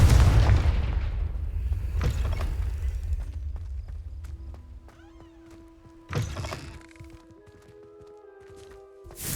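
A Confringo fire-blast spell in Hogwarts Legacy, one deep booming burst up front with a second thump midway, set against a low rumbling game ambience and scattered magical chimes.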